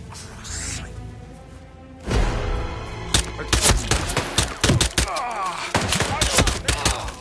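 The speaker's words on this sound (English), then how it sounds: "We have gunshots in the vicinity." Gunfire in the video game Hitman 3 erupts in a rapid series of loud, sharp shots and thuds, bunched irregularly across several seconds after a quieter start.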